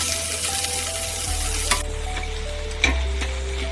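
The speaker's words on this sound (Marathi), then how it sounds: "थोडंसं परतून घ्यायचं आहे कुकरमध्ये." Black pepper sizzles and fries steadily in a pressure cooker over a low flame. The hiss is continuous, with a low hum underneath and a couple of faint clinks as it is stirred.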